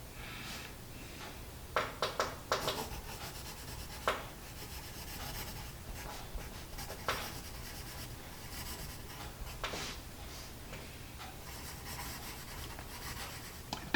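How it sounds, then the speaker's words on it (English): An Apsara Extra Dark pencil scratches across paper in soft, close rubbing strokes, with a few sharper taps early on and a steady faint scraping afterward, no talk. "It is an easy writing pencil."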